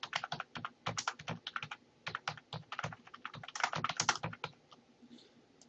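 Rapid, irregular keystrokes on a computer keyboard, heard close and fairly loud, with bursts of fast typing and brief pauses between words. No one speaks.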